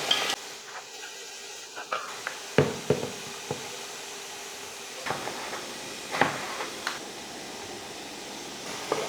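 Onions and curry leaves sauté in a pan with a soft, low sizzle, punctuated by sharp clinks and scrapes of a utensil stirring at irregular intervals.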